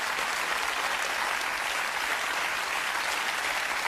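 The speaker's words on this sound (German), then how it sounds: "Da brauchen Sie gar nicht so hämisch zu klatschen" Studio audience at a German satirical TV comedy show applauding steadily, a dense, even wash of many hands clapping throughout with no pauses, moderately loud and alone.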